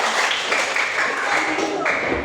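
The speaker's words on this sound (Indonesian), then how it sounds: "Ya, tepuk tangan." Classroom students clapping together, a bright continuous wash of hands that holds steady and fairly close throughout.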